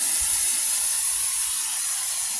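Brake cleaner hisses from an aerosol can, sprayed in one continuous, close, loud burst onto the front brakes of a 2008 Nissan Altima.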